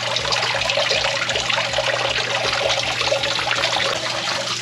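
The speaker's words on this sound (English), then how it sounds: "be filling up the bucket now." Water from a hose trickling through sponges into a bucket, a steady close splashing and dribbling that runs continuously with no talk over it.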